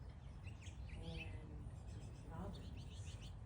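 Birds at an active backyard feeder with finches, sparrows, robins and hummingbirds chirp in soft, scattered high tweets and a brief trill, faint over a constant low ambient drone.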